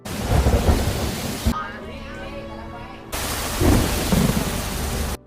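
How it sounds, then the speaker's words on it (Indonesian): Heavy rain pours steadily with deep thunder rumbling through it; midway the downpour briefly drops away to a quieter patter before surging back loud. "Mereka sangat gembira sampai hujan deras di luar tidak terdengar."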